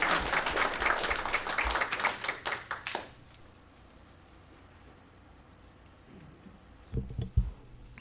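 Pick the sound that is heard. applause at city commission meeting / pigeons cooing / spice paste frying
applause at city commission meeting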